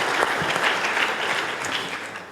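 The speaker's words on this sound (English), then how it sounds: "We should give the Chamber a round of applause" An audience at a policy conference applauds the Chamber with a thick, even roar of clapping that holds steady and tapers slightly near the end.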